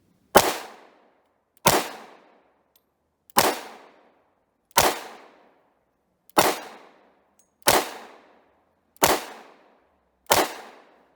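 A Romanian TTC Tokarev pistol fires 7.62x25mm rounds outdoors. Eight sharp, loud shots come at a steady pace about every second and a half, and each crack fades into a short echo in the quiet between shots.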